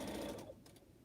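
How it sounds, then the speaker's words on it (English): Sewing machine stitching quilt pieces for pineapple blocks, a close, steady motor whir with rapid needle ticking for about half a second, then stopping and trailing off into quiet room tone. "I finished sewing."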